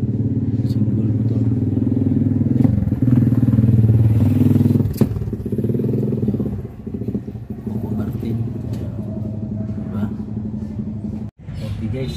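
A single motorcycle engine idles steadily nearby at a tricycle stand, a low continuous rumble with faint clatter, while people talk in the background.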